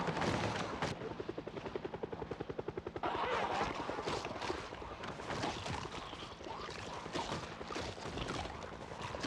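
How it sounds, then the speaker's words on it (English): In the video game Project Zomboid, a helicopter drones with a fast, steady rotor chop, loud and close, mixed with rattling bursts like gunfire. "So that the chopper comes to me."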